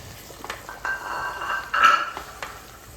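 A spoon scrapes and clinks around a pot of spicy Tuo Zaafi stew as ingredients are mixed, a few close metallic strokes and rattles over a quiet kitchen background.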